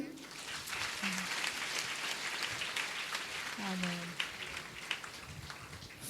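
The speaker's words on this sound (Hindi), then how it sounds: "ताली नहीं बजाएंगे?" Congregation applause during a Sunday church service, a steady rain-like patter of clapping with a preacher's voice breaking through near the end.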